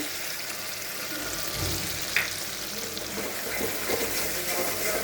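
Masala with cashew paste fries in oil for a prawn malai curry, giving a close, steady sizzle with soft bubbling, a brief clink of a utensil midway and light stirring scrapes.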